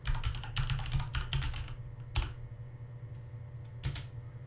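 Keystrokes on a computer keyboard as a command is entered in AutoCAD, a quick run of close, crisp clicks followed by a few isolated taps with pauses between.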